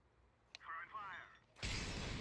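A molotov fire grenade is thrown in Counter-Strike 2, with a brief clink and crackling whoosh, then a sudden loud burst of roaring flames that fills the end of the clip.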